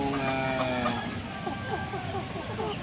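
Native chickens clucking and cheeping close by, a busy overlapping flock with repeated short calls throughout.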